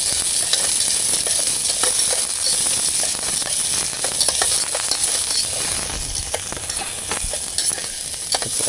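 Onion and garlic fry in a pan at a campsite, a loud steady sizzle close by, broken by frequent scraping and clinking from stirring.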